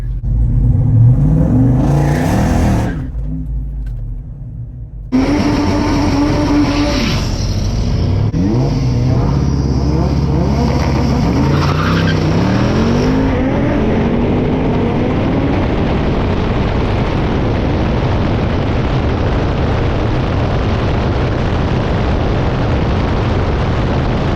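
Jeep Wrangler Rubicon 392 on massive tires launching in four-wheel drive at a drag strip against a turbo Honda: a loud V8 roar surges after a brief lull, holding a strained, rising engine note with tire and drivetrain noise.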